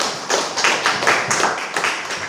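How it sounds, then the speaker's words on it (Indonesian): A crowd breaks into brief applause, with hands clapping in uneven bursts. "Tepuk tangan untuk Pak Latif,"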